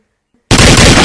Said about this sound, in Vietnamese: đã nghe tiếng nổ giòn tan nổi lên